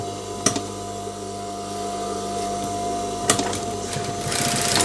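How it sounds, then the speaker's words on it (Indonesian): Sewing machine stitching the pocket lining of a bomber jacket, giving a steady close mechanical hum with a couple of brief sharp clicks, moderately loud and without speech. "Sini kita jahit dulu 1 cm,"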